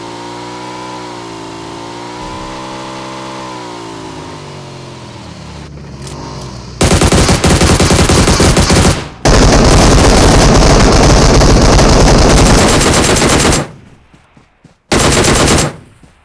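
Video game gunfire bursts out in loud, rapid automatic volleys, broken by short pauses, after a car engine revs and shifts pitch in the opening seconds.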